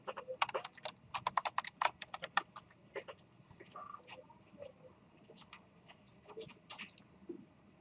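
Computer keyboard typing during a programming lecture, bursts of quick key clicks clustered densely at first, then sparser, scattered keystrokes over a quiet room background.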